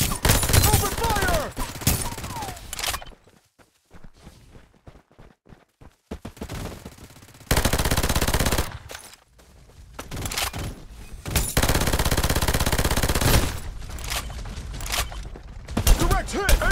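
Gunfire in the video game Farlight 84: dense, loud bursts of rapid shots come in waves, with a quieter lull in the middle, and game voices call out over the shooting.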